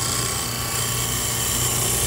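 A gouge cutting a spinning screwdriver handle on a wood lathe, a loud, continuous close rasping hiss over the machine's low hum with no pauses.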